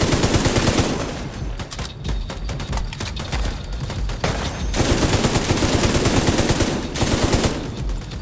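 Automated turret guns in The Division 2 rattle off sustained, rapid machine-gun bursts, loud and close, with only brief dips between the volleys.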